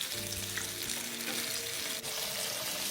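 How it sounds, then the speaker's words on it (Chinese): Chunks of meat pan-frying in oil in a nonstick pan, a loud, close, continuous sizzle with faint stirring and shifting sounds and one brief dip near the end, no voices. "在油煎过程中，尽量多将肉块移位推动，多翻几次面"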